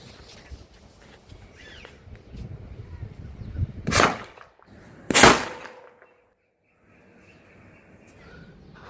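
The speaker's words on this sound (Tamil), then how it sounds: "லெஜண்ட் பிராண்டோடைய பிஜ்லி செம்மையான சவுண்டில் வெடிக்குது" Legend brand machine-fuse bijili firecrackers from Sivakasi burst outdoors, two sharp loud bangs about a second apart, preceded by a fizzing fuse and followed by quiet.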